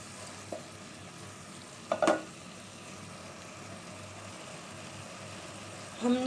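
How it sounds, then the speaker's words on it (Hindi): Fenugreek leaves sauté in a pan with potatoes, a soft, even sizzle with a clattering spatula knock near the middle and another at the end. "अब इस मेथी को हम लोगों ने बहुत अच्छे तरीके से 5 से 8 मिनट तक हमने इसे भूनना है।"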